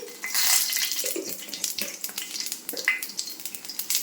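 Whole green chillies and cumin seeds hiss and crackle in hot oil, a steady close sizzle with bursts of sharper spitting and a few utensil scrapes, no voices.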